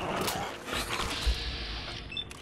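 A dog whimpering and panting in the video game Fallout 4, a few short plaintive whines over faint game ambience, close and moderately loud.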